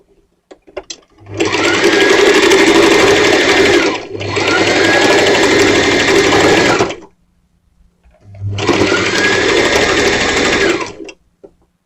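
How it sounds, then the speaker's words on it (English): A sewing machine runs down the side seam of a simple skirt in three loud, close bursts, two back to back with a brief stop between them, then a pause and a final run. "we're going to sew the other side the same way."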